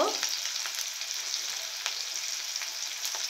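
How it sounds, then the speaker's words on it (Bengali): Spices fry steadily in hot oil in a pan for a bottle gourd leaf curry, giving a continuous close sizzle with small crackles and pops throughout. "তো আমি এখানে ভালো করে ভেজে নিয়েছি।"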